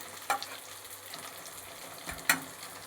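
Leafy greens (saag) fry in a pan on a home kitchen stove with a low steady sizzle, broken by two sharp scraping stirs near the start and end.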